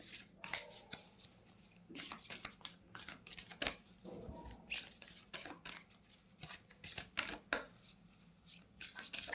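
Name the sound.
cards being taken out and shuffled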